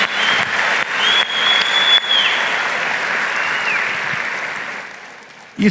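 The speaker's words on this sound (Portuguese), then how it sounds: "Dá uma salva de palmas para o Senhor." A congregation at a church service claps loudly and continuously for several seconds, the applause fading slightly before ending with a brief bump of noise.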